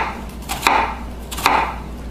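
A sharp knife chops an onion on a board in two crisp, close cuts spaced under a second apart, with no voices.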